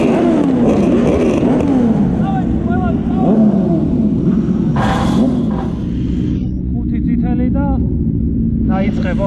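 1000cc race vehicles leave the line at a race start, their engines revving loudly with rising and falling whines that layer over one another, while people talk over the roar.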